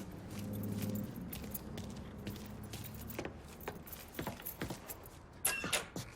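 Truck keys jangling in the video game Mafia 3, a few close metallic rattles and clinks after a low background rumble, fairly faint.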